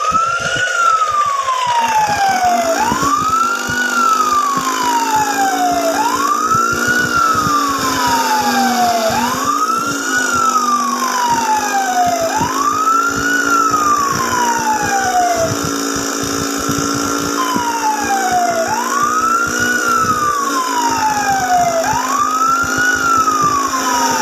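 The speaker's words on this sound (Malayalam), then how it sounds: "പോലീസ് ലൈറ്റ്, ഇതാണ് പോലീസ് വണ്ടി." A police car siren from a toy vehicle game wails in a steady rising-and-falling sweep, repeating about every three seconds for the whole stretch, loud and close with no talking.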